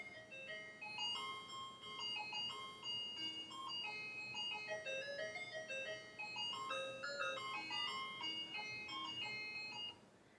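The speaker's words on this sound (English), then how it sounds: "you get like people coming by like ice cream trucks when you hear this music sometimes" Ice cream truck jingle playing outside, a bright repeating chime melody carrying steadily at a distance, faint with light background hum.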